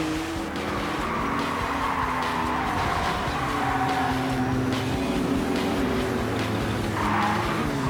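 Race cars in TOCA Race Driver 2 give off a continuous engine roar and drawn-out tire squeals as they skid around a track, staying loud throughout with a fresh squeal near the end.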